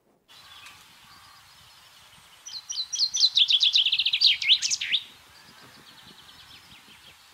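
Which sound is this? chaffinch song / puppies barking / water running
chaffinch song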